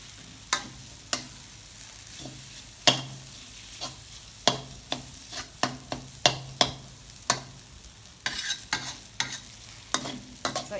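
Rice noodles and egg stir-fried in a pan, with a spatula scraping and tossing in sharp, irregular clacks over a low sizzle, close and fairly loud with no talking.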